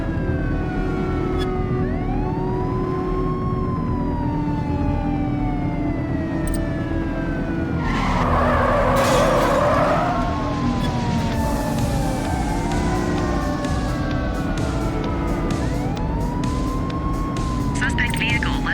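Police sirens wail and sweep in rising and falling tones during a vehicle pursuit in The Precinct game, loud and continuous over engine rumble, with a burst of noise midway and voices talking over it.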